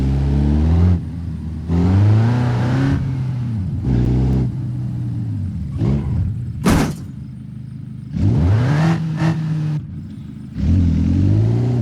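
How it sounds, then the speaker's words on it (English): A Cherrier Tograc with a four-cylinder diesel engine in BeamNG.drive revs repeatedly in loud bursts, its pitch climbing and falling between short pauses, with one sharp thump partway through. "just a little bit faster diesel engine, and it's 4-cylinder too"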